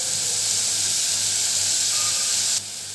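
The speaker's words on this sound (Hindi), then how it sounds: "हम फ्राई कर रहे हैं धीरे धीरे" Soybean chunks frying in a pan give a steady, close, bright sizzling hiss that holds evenly, then drops slightly in level near the end.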